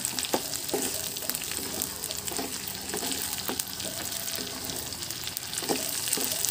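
Shrimp paste and binagoongan being stirred in a pan, with a steady sizzle and frying hiss throughout and repeated short scrape and clatter sounds of a utensil against the pan at an irregular rhythm, close up and fairly loud.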